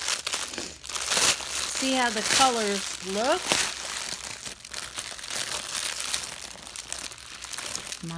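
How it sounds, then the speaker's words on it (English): A plastic bag of diamond painting drills is opened, giving crinkly rustling and crackling close to the microphone throughout, while someone talks over it with a rising, sing-song voice. "So let me get the bag open."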